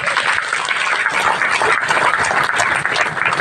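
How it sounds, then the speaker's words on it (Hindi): Audience at a Gondwana Gondiyan Samaj community gathering in Assam claps steadily to welcome a guest onto the stage, a dense, even wash of many hands filling the hall throughout. "उनको भी जोर और हाथ ताली के साथ स्वागत करें"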